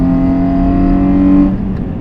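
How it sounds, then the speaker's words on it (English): A Hyundai Genesis Coupe second generation with the 3.8L engine revs in a steady, loud drone that holds and then drops off near the end, close by with no talking. "Good sounding car."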